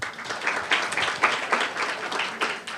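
A conference audience claps for the panel speakers and moderator after a session on justice budgeting, a sustained crowd applause with small swells and a continuous crackle of many hands.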